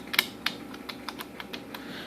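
Keys being pressed on an HP 8566A spectrum analyzer front panel, a run of about nine separate clicks at an irregular, unhurried pace, close and fairly quiet with no talking.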